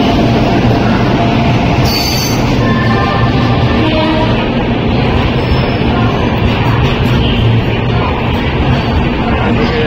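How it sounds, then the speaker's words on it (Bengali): The Kalka–New Delhi Shatabdi Express runs out of Chandigarh, and a loud, continuous rolling roar of wheels on track dominates throughout, heard close up from on board. "আমাদের ট্রেন দিয়েছে 12006 কালকা নিউ দিল্লি শতাব্দী এক্সপ্রেস।"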